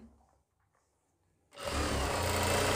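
A sewing machine stitches a fabric seam on elastic-back pants, starting abruptly after a quiet pause and running as a loud, rapid, steady mechanical whirr close by.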